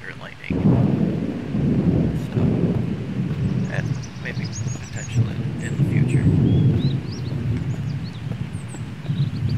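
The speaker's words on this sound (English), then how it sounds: "It'd be kind of cool if it would storm once in a while, like thunder and lightning." A thunderstorm in the survival game Mist Survival, with steady rain and deep rumbling thunder rolling loudly across the whole stretch, joined by faint higher chirps.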